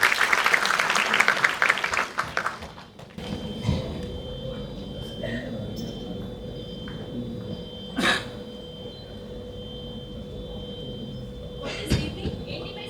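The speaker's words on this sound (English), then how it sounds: "Please welcome them with a huge round of applause." Audience applause at a university white coat ceremony, a short burst of clapping at the start that stops after about three seconds and gives way to quiet hall noise with a few faint knocks.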